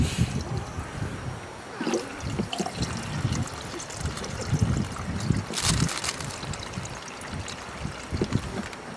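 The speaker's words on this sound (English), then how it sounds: "It's just a question of pouring some water over and some salt" Water poured over bags of rice with salt for outdoor cooking, a trickling, splashing pour with irregular bursts and a brief stronger gush midway, fairly quiet and without talk.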